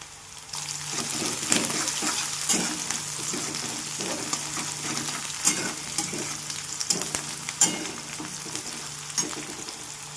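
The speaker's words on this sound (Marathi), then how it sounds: "व्यवस्थित मस्त फ्राय करून घेणार आहे, तळून घेणार आहे सर्व मसाले" Crushed garlic, green chili, curry leaves and spices fry in a hot pan, a steady close sizzle with occasional stirring scrapes and small crackles throughout.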